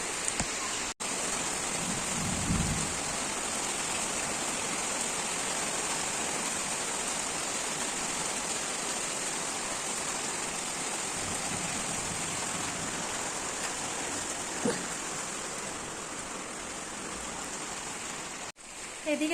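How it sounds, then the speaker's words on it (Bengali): Heavy rain pours steadily during a storm, a dense even roar of water on surfaces, with a faint low rumble early on and a few soft thuds. "চলো বৃষ্টি দেখাই কতটা জোরে বৃষ্টি হচ্ছে আর মেঘের গর্জন তো তোমরা শুনতে পাচ্ছি বৃষ্টির আওয়াজ মেঘের গর্জন"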